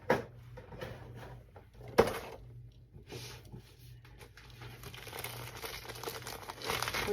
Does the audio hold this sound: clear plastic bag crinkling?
yes